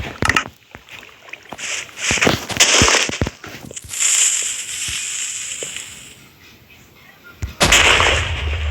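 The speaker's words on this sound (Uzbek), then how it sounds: "Yana bitta bombochkani bitta portlatish kerak" Several sharp, loud blasts go off irregularly, each a sudden boom with rumbling tail, followed by a longer roaring burst near the end.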